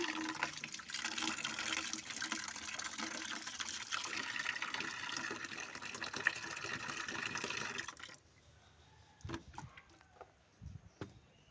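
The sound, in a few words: water running from a tap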